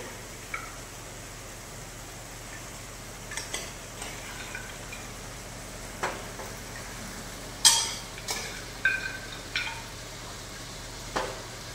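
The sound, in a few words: sautéing boiled mutton head in oil in pan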